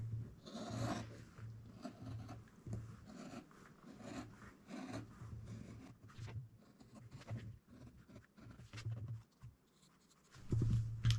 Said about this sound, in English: when I'm cutting out these pieces, I want to cut off the lines that I've drawn